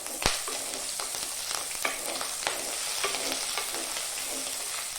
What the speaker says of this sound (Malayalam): ഒന്നിളക്കുക. അതിലേക്ക് 2 പച്ചമുളക് അരിഞ്ഞത് ഇടുന്നു.